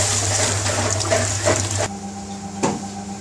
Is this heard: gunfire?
no